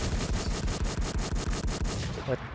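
Rapid automatic gunfire in a video game, a steady burst of about a dozen evenly spaced loud shots, close and dominant, ending with a short tonal blip.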